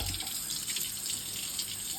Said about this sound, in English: Then I just rinse the whole thing out.